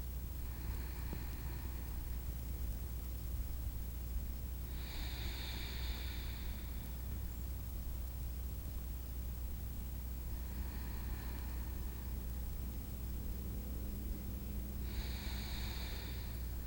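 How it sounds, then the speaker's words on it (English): Slow, deep yoga breathing at bedtime, audible airy inhales and exhales recurring in long cycles about every five seconds over a constant low hum, close and soft, with no talking. "Stay long with that exhale and full with the inhale."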